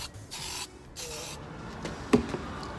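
Brake calipers being spray-painted yellow, with two short hissing bursts from an aerosol can, then quieter rubbing and a few faint knocks, close by.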